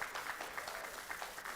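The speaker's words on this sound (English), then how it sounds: "let's give our panel a round of applause" A conference audience at a food business event gives the panel a round of applause, dense steady clapping from many hands throughout the short stretch.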